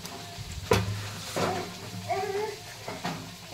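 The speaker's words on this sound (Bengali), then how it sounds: "ভালোভাবে পুরিটাকে সেঁকে নিতে হবে তেলের মধ্যে" A beetroot puri frying in hot oil, soft bubbling sizzle with a few sharp bursts and scrapes, moderately close, with faint voice-like sounds in the background.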